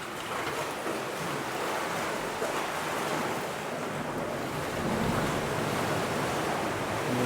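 Ocean waves surge into a sea cave on the Nova Scotia coast and strike its back wall, giving a steady, loud, rumbling wash with wind noise over it.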